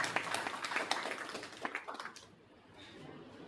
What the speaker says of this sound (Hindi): जोरदार ताली बजाए, बिग हैंड्स, जोरदार